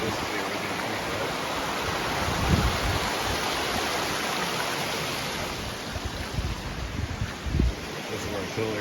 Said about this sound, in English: All of this water here flowing needs to get back in this channel this way.